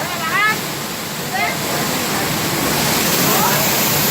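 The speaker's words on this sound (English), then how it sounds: "That's the waterfall right here." A waterfall roars steadily in a dense, loud wash of noise, with brief bursts of people's voices rising over it near the start.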